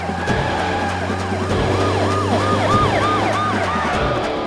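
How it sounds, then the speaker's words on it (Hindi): A wailing police car siren rises and falls repeatedly in a fast cycle, heard alongside the low steady rumble of a car engine. "हमारी गाड़ी के पीछे ये पुलिस की गाड़ी क्यों है?"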